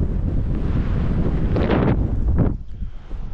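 Strong desert wind in the great eastern erg buffets the microphone in a steady rough roar, with a couple of louder gusts near the middle before it drops off, and no voices.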